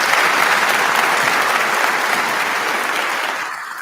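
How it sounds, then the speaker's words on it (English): Audience at a real estate awards ceremony and housing summit applauds, a dense sustained wash of clapping from many hands that fades slightly toward the end. "give her a real clapping ovation"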